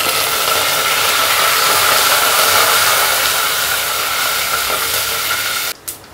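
Curry leaves dropped into hot oil for a tempering with mustard seeds and garlic, a loud, continuous hissing sizzle close by that breaks off abruptly near the end.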